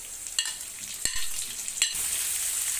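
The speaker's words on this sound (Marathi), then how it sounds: "आता यामध्ये टोमॅटो मिसळून घेऊया" Tomatoes stirred into frying onion in spiced tempering oil make a continuous close sizzle, broken by three sharp spoon clacks against the pan, with no voices.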